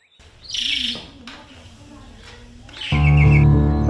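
Birds chirp at the foot of Mount Merapi, a few bright tweets rising near and loud early on, then a burst of busy, layered calls toward the end over low background rumble.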